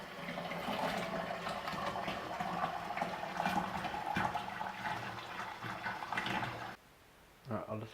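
Water pours steadily from a tap, splashing and gurgling up close, then cuts off abruptly before a short splash.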